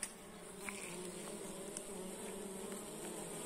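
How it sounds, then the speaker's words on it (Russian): A honeybee carrying a pollen load buzzes at a swarm trap, a steady faint droning hum close by, with no voices. "Пчела с обножкой."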